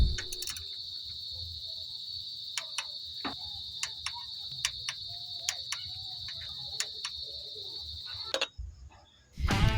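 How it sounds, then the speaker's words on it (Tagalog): A torque wrench gives a series of sharp, close clicks at an uneven pace over a steady high-pitched whine while tightening screws on a distributor, then ends with a brief clatter. "satisfying yung tunog ng torque wrench pagka"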